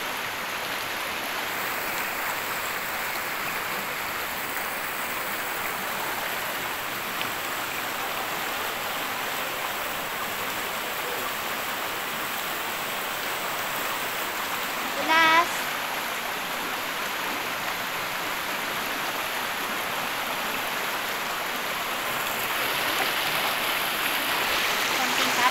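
Water flows steadily and evenly outdoors, a continuous rushing hiss that lasts the whole stretch with no breaks, fairly loud and close, with only a brief faint sound standing out near the middle.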